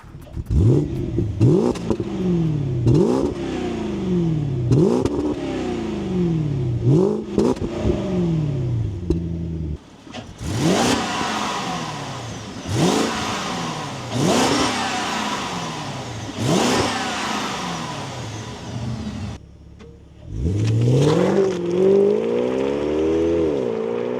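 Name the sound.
Alpina B5 S car engine revving, soundcheck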